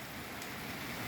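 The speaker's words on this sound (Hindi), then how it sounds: "ये थोड़ी सी बारिश इधर से भी दिखाएं आपको" Rain falling outside an opened window of a home, a soft, steady hiss of drops on surfaces throughout, faint and unbroken with no voices.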